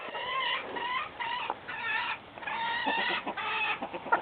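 Chickens being hand fed cluck and murmur in quick repeated bursts close by, a busy stream of soft fowl calls with short pauses and no talking.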